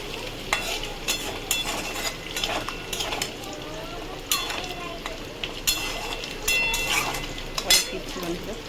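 Masala with ginger frying in a pan as it is stirred, a soft sizzle under repeated spatula scrapes and clinks against the metal, close and irregular.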